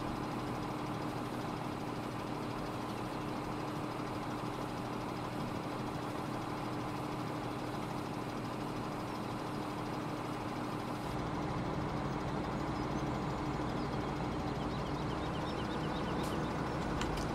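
Road train truck engine in Farming Simulator 17 on a Cornbelt farm map, a steady droning idle with mid-range rumble running continuously, growing slightly louder toward the end with no talk.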